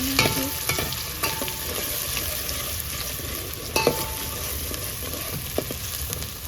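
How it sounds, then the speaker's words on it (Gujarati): Chopped onion and green chili fry in hot oil, a loud steady sizzle up close with occasional stirring scrapes and clicks, no talking over it. "તેલ ગરમ થઈ જશે તો આપણે એમાં ડુંગળી ને લીલું મરચું નાખી દેવાનું છે"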